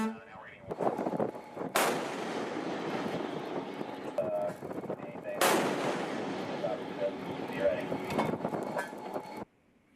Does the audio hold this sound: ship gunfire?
yes